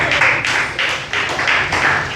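A church congregation at an evangelical service claps in a steady rhythm of repeated bursts, close and fairly loud, with no talking over it.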